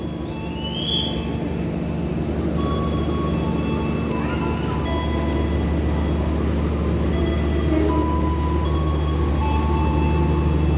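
KA Gumarang passenger train with second-generation stainless steel coaches, hauled by a CC 201 locomotive, giving a loud steady rumble and rolling roar that holds throughout, with faint high tonal whines and squeals over it.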